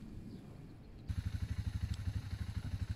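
A BMW F650GS motorcycle engine chugs with a steady, rhythmic pulse after a quieter opening, close and loud while riding along the Wörthersee lakeshore toward Maria Wörth.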